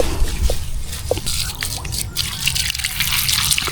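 Water drips and trickles steadily in irregular spatters during watering of dwarf coconut trees on a farm, close by against a background of outdoor noise.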